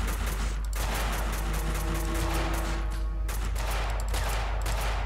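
Grenade blasts and gunfire in the video game Max Payne, a dense run of sharp bangs and rattling reports in quick succession, loud and continuous with a few heavier thuds.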